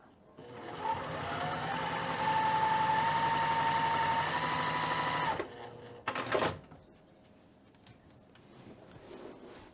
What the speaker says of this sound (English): I'm just going to go ahead and just sew through it